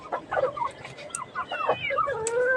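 Chickens cluck and squawk in irregular bursts nearby, with a voice mixed in among the calls.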